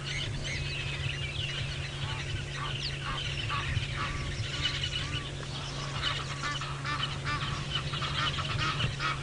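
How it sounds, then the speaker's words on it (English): Egyptian geese honk loudly and repeatedly during a sunrise safari drive, a dense, continuous chorus of calls over a steady low engine hum. "of course you can hear the Egyptian geese, they're so loud"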